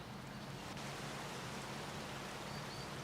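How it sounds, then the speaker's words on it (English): Steady rain falls in the Skyrim video game, a dense, even hiss of raindrops that runs without a break for the whole stretch, with no voices over it. "Oh, that's because of the rain."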